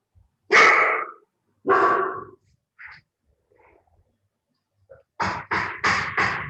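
Dogs kept at a busy home with many pets bark loudly close by: two single barks, a few quieter sounds and panting, then a rapid burst of four barks.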